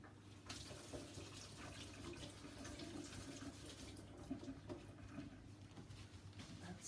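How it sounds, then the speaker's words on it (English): A tap runs steadily into a sink as paint is washed off hands, giving a soft continuous hiss and splash that stays quiet and even throughout. "Gotta wash my hands."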